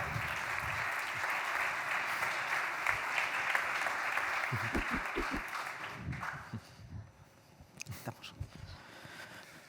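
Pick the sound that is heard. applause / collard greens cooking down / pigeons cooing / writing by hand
applause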